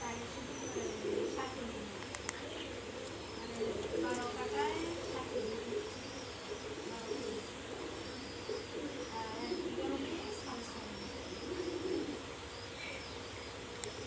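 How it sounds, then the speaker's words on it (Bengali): Old pigeons coo softly in a loft, low throaty calls repeating over steady background insect chirping and faint voices talking. "পুরানো কবুতর এটা"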